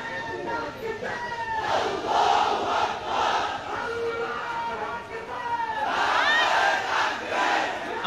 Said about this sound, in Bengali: নারায়ে তাকবীর, আল্লাহু আকবার স্লোগান দিচ্ছে।